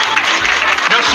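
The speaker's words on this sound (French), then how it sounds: "je prie à tous les Bénampoukans d'applaudir très fort" A crowd at an outdoor cultural tribute ceremony claps loudly and continuously in a dense burst of applause, with voices mixed in.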